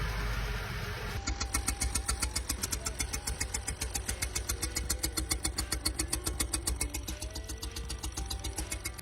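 A Subaru engine with a newly replaced timing chain runs with a fast, evenly spaced knocking clatter that repeats steadily over a continuous mechanical hum, close and clear with no talking.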